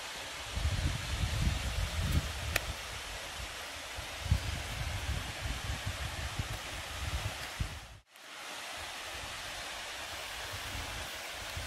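Sarswoti waterfall in Sindhuli District, a steady broadband roar of falling water heard close and continuous, with a brief dropout near the end before the rush resumes.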